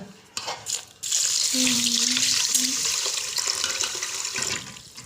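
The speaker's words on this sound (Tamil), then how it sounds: "அந்த 3/4 kg சுகருக்கு தேவையான அளவு தண்ணி இதுக்கும் அதில் ஊற்றிக்கலாம்." Water pours steadily into a pot of sugar to make gulab jamun syrup, a close hissing splash that starts abruptly and runs for several seconds, with a voice speaking briefly underneath.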